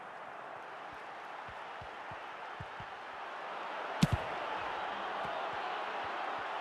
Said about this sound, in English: The crowd certainly think so. Just listen to this noise.